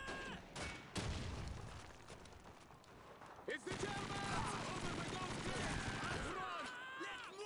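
Combat in Call of Duty 2 where a grenade goes off: sharp bursts and a heavy blast with a long crackling, rumbling tail amid steady battle noise, with faint talk in the background.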